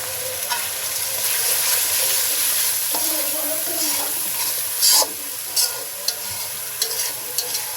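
Spices sizzle and frying in a large wok, with coriander powder and ginger-cumin paste stirred through by a spatula; a steady broadband hiss runs throughout, broken by several short scraping clatters of stirring toward the end, with no talking.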